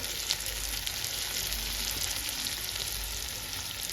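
Ground cumin, coriander and turmeric sizzle in hot oil in a pan for cabbage chorchori, a steady dense frying hiss with faint stirring scrapes, close and continuous with no talking.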